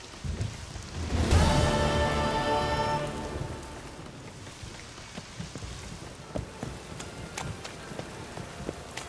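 Steady rain patters in the video game Steam & Sunbeams, under a low rumble that swells briefly near the start, with scattered drips and taps continuing throughout.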